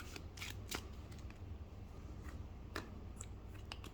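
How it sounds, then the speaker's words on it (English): Star Trek CCG trading cards are riffled and shuffled in quiet bursts of soft flapping and snapping, fairly close, with no talking. "We have no opponent, so what we do is we shuffle these up"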